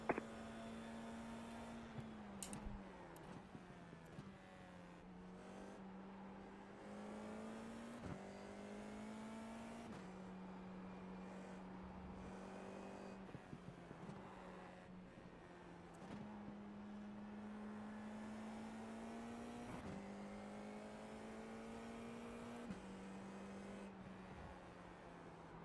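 Formula 4 race car engine at Sachsenring in a racing game: a constant in-car engine drone that rises and drops through gear shifts and braking for corners, with brief clicks over it.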